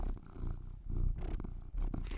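A cat purrs close to the microphone in a short, steady, rumbling burst with slight breaks between breaths, heard alone without talk.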